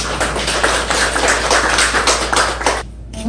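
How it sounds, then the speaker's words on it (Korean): Audience at a residents' briefing on a neighborhood master plan gives a dense round of hand clapping that holds steady for about three seconds, then cuts off. "많은 박수 부탁드리겠습니다."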